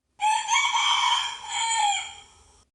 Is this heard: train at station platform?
no